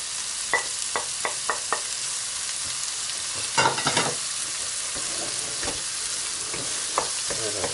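Squid sizzles steadily in a hot pan while a utensil stirs it, giving a string of sharp scraping knocks over the continuous frying hiss and a brief louder burst partway through.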